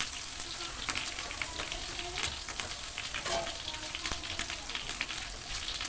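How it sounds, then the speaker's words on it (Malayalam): Two kilograms of rice being dry-roasted in a pan crackle and hiss steadily, with scraping stirring strokes and occasional sharper pops, heard close up and fairly quiet. "അപ്പോൾ ഞാൻ അരി വറുക്കാൻ പോവുകയാണ്"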